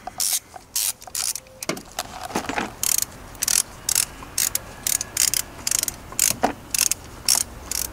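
A ratchet wrench loosens the bolts on the oil filter housing of a BMW E36, producing rapid bursts of clicking pawl strokes with short pauses between, close and clear.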